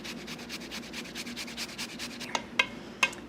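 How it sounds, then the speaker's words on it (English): Fresh ginger is grated into a bowl over fruit, a quick run of rhythmic rasping strokes, close and fairly loud, ending with a few sharp taps. "grate it into the bowl over the fruit"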